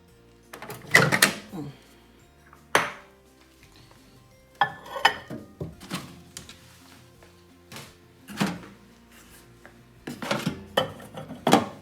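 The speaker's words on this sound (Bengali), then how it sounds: "জাস্ট পাস্তাটা ঢেকে দিলাম যাতে কোনো দিকে না ছিটকায়" A lid set over a dish of leftover pasta before reheating: a sparse series of separate clinks, knocks and clatters of kitchenware close by, with quiet gaps between them.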